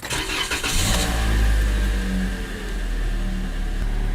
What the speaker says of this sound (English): Lastly, we will give it a start and make sure nothing has gone awry.